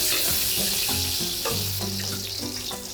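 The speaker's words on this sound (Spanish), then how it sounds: "Los primeros que voy a sellar son los camarones" Shrimp for a Cuban paella searing in a hot pan, a steady close crackling sizzle with bursts of spattering throughout, no voices.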